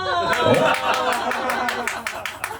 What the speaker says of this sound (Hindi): हाँ, ताली बजाइए भाई साहब के लिए